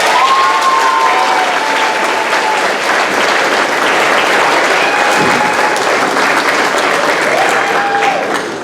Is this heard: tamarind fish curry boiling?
no